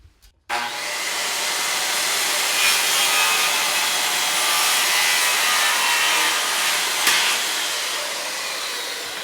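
A saw cuts steadily through a wooden wall stud while a basement wall is framed, giving one continuous loud, close rasping run after a brief quiet start.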